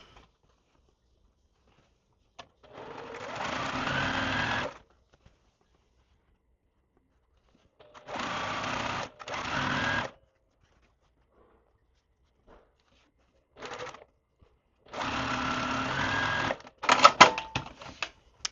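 A sewing machine stitches quilt block pieces for an Evening Hourglass block, running in four separate bursts of rapid mechanical whirring and clatter with silent pauses between, close and moderately loud.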